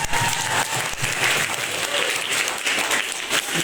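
A room of people claps steadily, a dense burst of applause that holds for a few seconds without pause.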